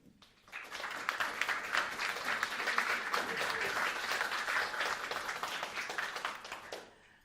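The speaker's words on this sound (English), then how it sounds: "That was such a warm round of applause." Warm applause from a panel discussion audience after a speaker finishes, building quickly from quiet into steady, fairly close clapping with distinct hand claps, then tapering off near the end.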